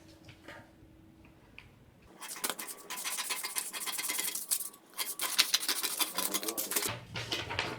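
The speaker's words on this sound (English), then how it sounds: "So I'm just going to cut it out now." Scissors snip through blouse fabric while a paneled peplum blouse piece is cut out, giving bursts of close, crisp scratchy cutting strokes separated by short pauses, with no talking.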